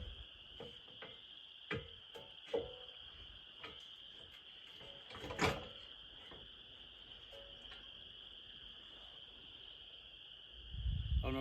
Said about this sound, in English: It's just like thousands of frogs right now.